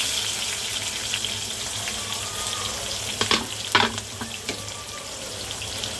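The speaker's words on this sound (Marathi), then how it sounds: "कांदा चांगला मऊसूत व्हायला द्यायचा." Chopped onion softening in hot oil with cumin seeds and bay leaf, giving a steady, even sizzle throughout, with a few brief spoon scrapes and taps near the middle.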